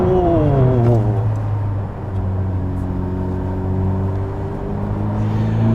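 A Ferrari with a 1000 hp engine on the Nürburgring as the driver lifts off the throttle, a loud steady engine drone with descending then settling harmonics, continuous and close.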